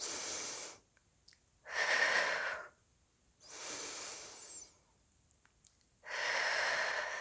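Slow, deliberate breaths during a yoga class, four long airy inhales and exhales close to the microphone, each separated by a quiet pause, with no speech.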